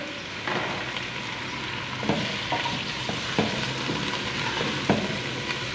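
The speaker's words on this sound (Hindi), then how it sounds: "और 2 से 3 मिनट के लिए अच्छे से भुनाई कर लेंगे चिकन की" Chicken with garlic-ginger paste sizzles steadily in hot oil in a pot for yakhni, with occasional spoon scrapes and stirring knocks over the continuous frying hiss.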